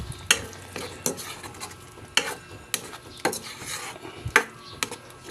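Leftover roasted pig paksiw is stirred in a pan, a spoon scraping and clacking against the metal in several sharp strokes over a soft simmer, close and moderately loud, with no talking.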